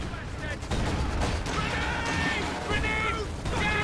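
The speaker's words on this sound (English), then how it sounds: "rifle grenades being launched, all sorts going on here" Rifle grenades launch and explode amid scattered gunfire on a Company of Heroes 2 battlefield, thuds and crackling shots mixed under steady commentary speech.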